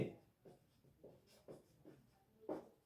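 A pen writes linear simultaneous equations by hand on paper: a run of short scratching strokes in an uneven rhythm, close but quiet, with no talking.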